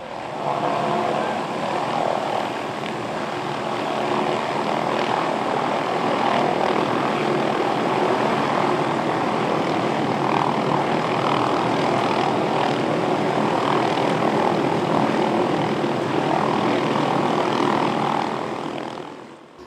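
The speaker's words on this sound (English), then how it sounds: "This is a MD 500E helicopter." MD 500E light helicopter by MD Helicopters, originally a Hughes design, a steady loud whirring engine and rotor drone that holds constant for the whole stretch.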